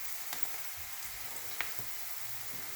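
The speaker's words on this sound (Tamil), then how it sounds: "இப்போ நாம் தக்காளி ஆட் பண்ணிடலாம்." Chopped tomatoes tipped into a hot frying pan for coriander tomato chutney give a quiet, steady sizzle with a few soft taps and thuds, no voices.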